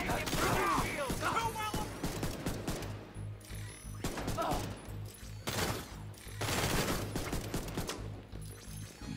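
Repeated bursts of exotic pistol fire sound in The Division 2, sharp close shots in uneven clusters with mechanical clicks between them and a voice talking over parts of it.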